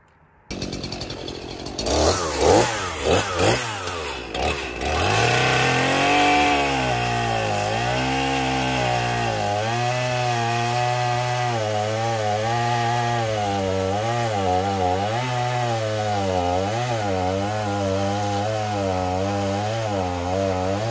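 A chainsaw cuts Norway spruce trunks into firewood, starting with a few revving bursts and then settling into a loud, sustained, wavering engine drone with pitch rising and falling as it bites into the wood.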